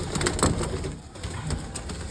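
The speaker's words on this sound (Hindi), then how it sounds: "कबूतरों को निकालते हैं जी बाहर," Pigeons coo on a hot rooftop, soft throaty repeated calls close by, mixed with rustling and light fluttering and no talking.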